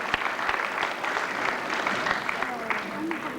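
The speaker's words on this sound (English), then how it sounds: "Have a big round of applause for our Super Matthew." A stage audience claps, the applause loud and steady throughout with a dense patter of hands, and a voice heard alongside it.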